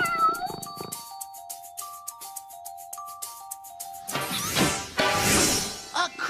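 A cartoon cat meows in a string of short, bright calls over a light plucked musical tune, followed by a louder, busier burst of cartoon effects near the end.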